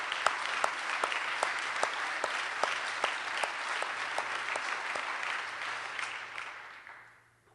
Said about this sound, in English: we should applaud the Obama team for those administrative actions